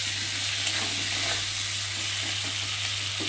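Spice paste with cumin, ginger, green chili and chopped tomato fries in a pan, holding a dense, even sizzle with faint stirring and a low steady hum beneath it.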